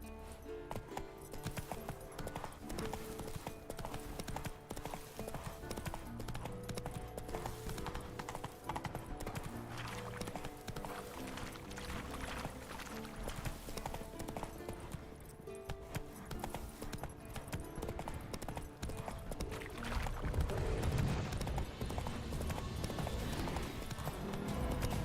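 Roach, Geralt's horse in The Witcher 3, gallops with steady rhythmic clip-clopping hooves over busy game music and ambience, continuing for the whole stretch and growing a little louder near the end.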